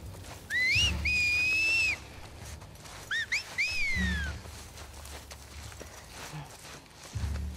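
Two separate rising, two-tone whistles from a character in The Last of Us Part II, faint and distant-sounding, each a sweeping call with a pause between, over quiet ambient game noise and soft thuds.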